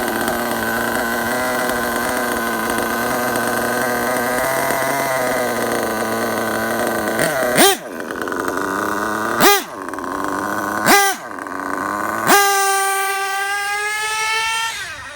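A Marky D DYN.28 RC nitro engine idles with a steady, high-pitched buzzing drone close by. Several short throttle blips dip and surge the note before it settles into a higher steady whine.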